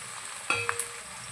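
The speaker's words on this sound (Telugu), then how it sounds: "ఆనియన్స్ కొంచెం బ్రౌన్ కలర్ వచ్చే వరకు అయితే వేయించుకోవాలి" Onions and chillies frying in a pan for country chicken curry, a low continuous sizzle with a couple of brief spoon clinks against the pan midway, close and without talk.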